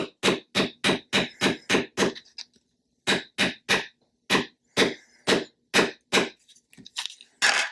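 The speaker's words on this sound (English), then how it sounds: "I'm just going to gently hammer it in" A rapid series of light taps, about twenty short knocks in quick bursts with brief pauses, as a small hammer gently taps a pin into a metal pin-and-tube bracelet close by.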